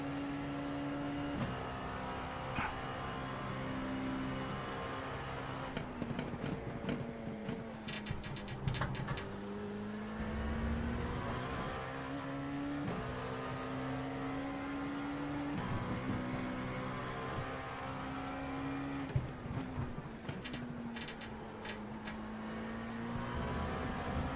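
A racing car engine in the iRacing sim, during a multi-class race, drones steadily and rises and falls in pitch through gear changes and lifts, with occasional bursts of clatter over the constant whine.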